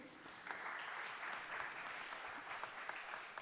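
Conference audience at a spinoff conference and Horizon Europe info day applauding, a steady patter of many hands clapping at moderate distance, fairly quiet and sustained.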